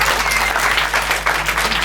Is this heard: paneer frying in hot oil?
no